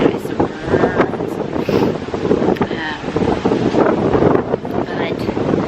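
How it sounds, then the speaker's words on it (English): Strong wind gusts of 20 to 40 mph batter a camera microphone outdoors during Ironman training. A constant roaring rumble with uneven buffeting fills the whole stretch, loud and close. "20 to 30 to 40 mile an hour gusts."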